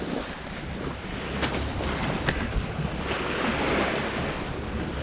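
Calm Pacific Ocean waves wash steadily around a sailing yacht, a soft continuous surf hiss with light wind rumble against the hull and no talking.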